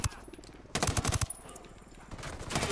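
Rapid machine-gun bursts ring out in the tactical shooter Ghost Recon Wildlands: a short lead-in of shots, then a loud, tight rattling volley and a further burst at the end, with no talking.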